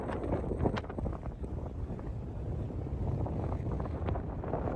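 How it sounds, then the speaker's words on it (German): Strong gusts buffet the microphone on a beach, a constant loud rumble of wind noise with no speech, steady for the whole stretch. "pustet der Wind mir ganz schön stark ins Gesicht"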